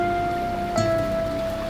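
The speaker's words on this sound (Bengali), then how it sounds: "বৃষ্টির শব্দটা শুনতে ভালো লাগে" Rain falling steadily onto a rooftop, a soft continuous patter with a faint tonal hum underneath and one brief louder knock partway through, no voices.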